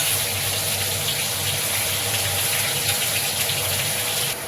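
Rinse water from a bowl gushes steadily into a cooking pot of potol korma with tomatoes and onions, a close continuous pouring sound that stops abruptly at the end, with no talking.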